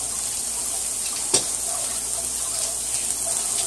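A kitchen tap running steadily as something is rinsed under it, a continuous close hiss of water with one brief clunk partway through.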